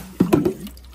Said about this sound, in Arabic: ودي الميه اللي انا هسقي بيها الليمون